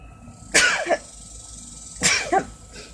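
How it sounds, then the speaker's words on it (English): A single person sneezes sharply and close by, then gives a second sneeze about a second and a half later. The bursts are loud against a quiet room, with no talking around them. "hold on, I need to sneeze."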